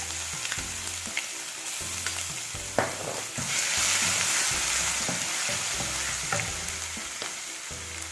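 Crushed garlic and fennel seeds hit hot oil in a pan with a bright, continuous sizzle that swells midway, punctuated by light stirring knocks and scrapes.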